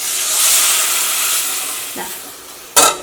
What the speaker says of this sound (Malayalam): നല്ല തിളച്ച നല്ല ചൂടുള്ള വെള്ളം ചേർക്കുക